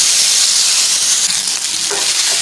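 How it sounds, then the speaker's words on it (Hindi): Chow mein noodles frying in a hot pan with cumin and oil, a steady loud sizzle and hiss running continuously, with faint stirring scrapes near the end. "अब हमें चाउमीन को अच्छे से फ्राई करना है।"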